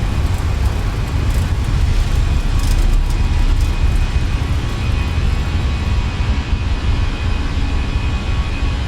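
Airliner jet engines at takeoff thrust roar loud and constant through the takeoff roll, a dense broadband rumble heard from inside the aircraft without pause.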